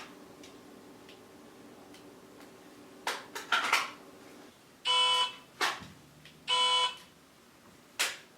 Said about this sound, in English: when the buzzer goes off the second time